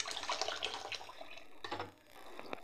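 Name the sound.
washing ration rice in water for idli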